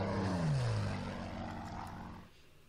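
Propeller airplanes in a war video game passing overhead, a loud engine drone whose pitch sweeps downward as the aircraft goes by, then fades away into quiet.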